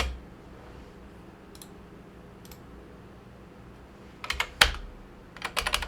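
A computer keyboard is typed on in a quiet room, with a few isolated keystrokes followed by quick clustered bursts of close, crisp key clicks toward the end.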